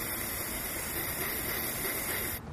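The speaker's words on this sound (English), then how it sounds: "So we'll spray a little bit on there." Gold Bond foot spray hissing onto a golf putter face, one continuous close aerosol burst lasting about two seconds before cutting off abruptly.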